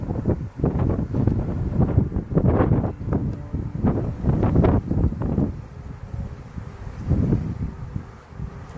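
Breezy wind outdoors during a bee swarm collection, buffeting the microphone in uneven rumbling gusts that rise and fall throughout, loud and close with no talking.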